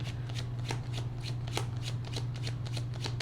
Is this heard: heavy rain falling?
no